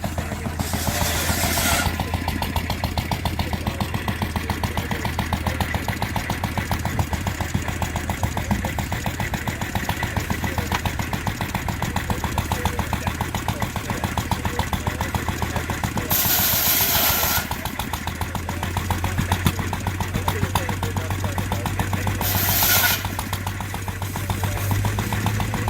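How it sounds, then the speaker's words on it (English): A belt-driven thickness planer runs steadily at a gas and steam show, a continuous mechanical drone with engine-like hum throughout, joined by brief louder bursts partway through. "We're gonna see what this does. It's a belt-driven thickness planer."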